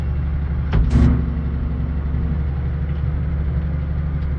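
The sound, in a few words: tractor engine running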